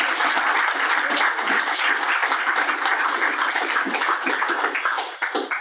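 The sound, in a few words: audience applauding for Kelly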